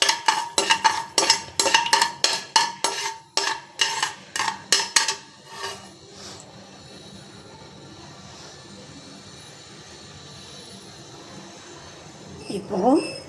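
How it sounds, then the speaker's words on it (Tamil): Mustard seeds splutter in hot oil in a pan with a quick run of sharp, loud pops for several seconds, then the popping dies down to a low hiss with faint background sounds. "இப்போ நம்ம கடுகு போட்டுக்கலாம். கடுகு நல்லா பொரியட்டும்."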